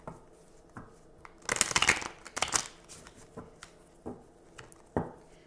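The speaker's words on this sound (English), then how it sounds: "I'll let you guys, watch me shuffle for a moment" A deck of tarot cards is shuffled by hand, giving soft riffling bursts and light taps, with one louder flurry near the middle. The sound is close and fairly quiet.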